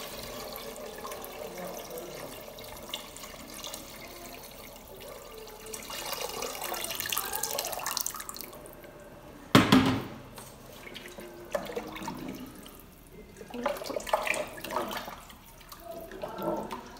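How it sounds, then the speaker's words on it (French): Water poured from a tap or jug into a Cookeo pressure-cooker pot to cover celery and other harira soup ingredients, a soft running and splashing flow with a louder clunk partway through, close by. "Et je vais venir couvrir avec de l'eau."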